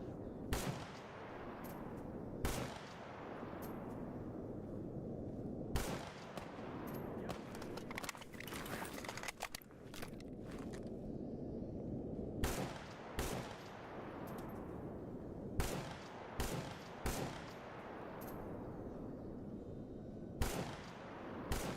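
Repeated gunshots and bursts of weapon fire in a video game, loud sharp cracks scattered irregularly with rolling echoes and tails between them, some rapid clusters of shots, no talking.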